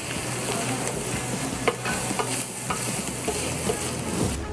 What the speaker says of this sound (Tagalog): At atin pong igisa sa ating kawali. Halu-haluin lang natin hanggang mag-brown ng konti.